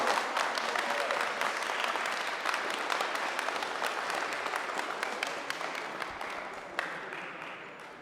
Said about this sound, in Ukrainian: Давайте ще раз оплесками дякуємо.